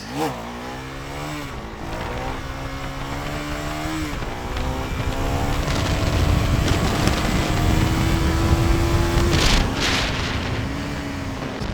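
A KTM Duke 390 motorcycle engine revs hard and holds high pitch during wheelies on a road, loud and close, with the tone climbing and dipping between shifts.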